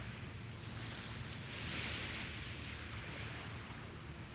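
Ocean waves break and wash up on a beach in a continuous soft roar that swells in the middle, distant and fairly quiet with some wind, no voices.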